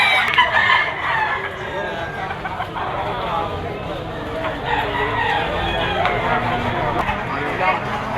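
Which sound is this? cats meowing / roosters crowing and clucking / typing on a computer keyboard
roosters crowing and clucking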